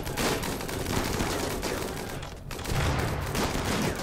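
Dense, continuous gunfire from the Rimworld video game (Alpha 16 'Wanderlust'), rapid overlapping shots and bursts sustained throughout, loud and busy with only a brief dip midway.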